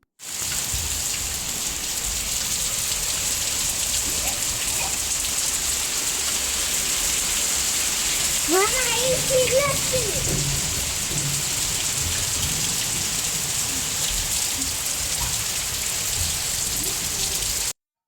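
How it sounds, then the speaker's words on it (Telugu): Heavy rain pours down in a steady, dense hiss, with a brief chirping call rising faintly through the middle. "ఫ్రైడే రోజు నైట్ నుంచి ఫుల్లుగా వర్షం అయితే పడింది"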